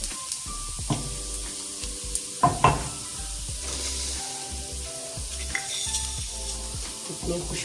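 Garlic, whole black peppercorns and cumin seeds sizzle hard in hot oil for a masoor dal tempering, a loud, close crackle broken by a few stirring scrapes and clinks of a utensil against the pan.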